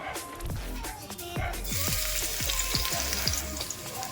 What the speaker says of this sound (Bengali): রসুনগুলো একটু ভাজা ভাজা হবে লাল লাল করে